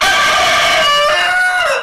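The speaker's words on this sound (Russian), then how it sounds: "Это чувашский петух." A Chuvash rooster in a village crows once, loud and close, a full drawn-out call that rises then falls away.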